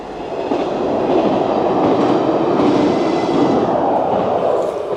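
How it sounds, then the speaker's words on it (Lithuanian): A train rolling past a cyclist on a ride from Vilnius to Kaunas, a loud, steady rumble with rail clatter lasting throughout, close by and without speech. "Traukinys."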